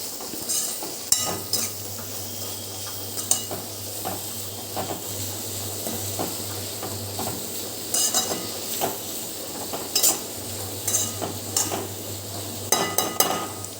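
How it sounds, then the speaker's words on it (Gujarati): A spoon stirs karela curry in a pan with red chilli powder, coriander-cumin powder and salt, a steady sizzle broken by repeated scrapes and metallic clinks against the pan, close and continuous with no talking. "હવે એને સરસ હલાવી લેવાનું છે"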